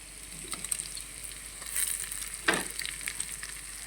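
Chicken and garlic frying together in a pan, giving a steady close sizzle with a louder crackling burst midway and light stirring noises, no voices.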